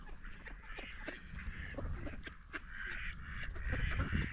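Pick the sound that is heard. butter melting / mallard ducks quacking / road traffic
mallard ducks quacking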